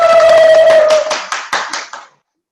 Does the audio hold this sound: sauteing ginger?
no